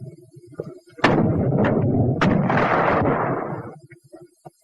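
A WWII 37 mm gun fires at a concrete target, giving a sharp loud report that turns into a rumbling roar, with a second crack a moment later, heard close and fading out after about three seconds.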